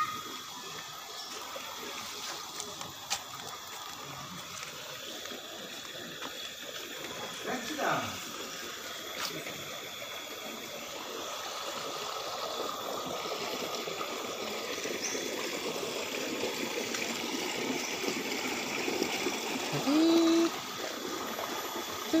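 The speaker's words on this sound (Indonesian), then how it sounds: "di sini mata airnya" Water flows steadily from the Gending spring, a constant gushing rush heard close, with a few faint bumps and light handling noises over it.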